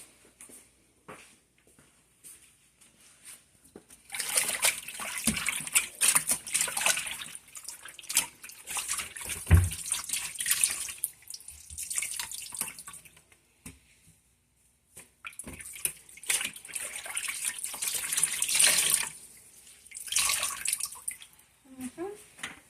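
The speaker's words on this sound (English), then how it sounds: "I'm gonna rinse my rag again." A kitchen tap runs over a cleaning rag being rinsed, bursts of splashing water that start and stop between quieter gaps, with light drips and sounds of the rag being handled.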